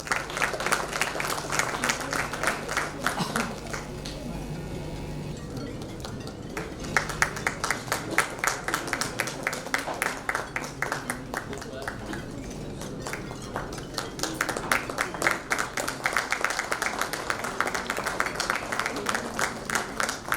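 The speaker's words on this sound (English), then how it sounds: "Please give a big round of applause." Audience at a design conference giving a long round of applause for guests invited on stage, dense continuous clapping in a hall, briefly easing midway before picking up again.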